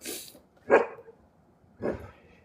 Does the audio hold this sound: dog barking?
yes